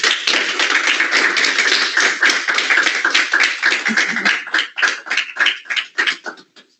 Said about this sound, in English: So first round of applause